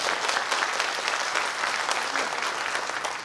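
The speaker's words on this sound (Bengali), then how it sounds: "ম্যানেজমেন্টের উদ্দেশ্যে একটা করতালি দেব।" Audience applause at a company's 24th anniversary celebration, a steady dense clapping from a large crowd that stays loud and continuous throughout with no speech over it.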